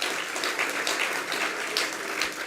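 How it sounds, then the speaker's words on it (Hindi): Audience at a spiritual discourse applauding: a steady, moderately distant wash of many hands clapping, continuous throughout. "तालियां तो बजा रहे हो, थोड़ा जोर से बजा दो।"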